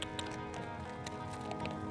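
Hooves of a galloping horse drum in a quick, steady clip-clop rhythm, faint and somewhat distant, under a constant outdoor noise bed.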